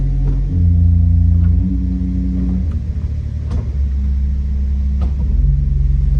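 A pipe organ's resultant 32-foot pedal stop, built in fifths, sounds deep sustained rumbling bass tones, loud and close, shifting between held low notes with a few faint clicks.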